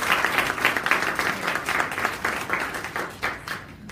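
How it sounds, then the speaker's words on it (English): An audience at an annual awards ceremony in Kuala Lumpur applauds after a speech, a short burst of close, even clapping that tapers off within a few seconds. "Big round of applause for Oana."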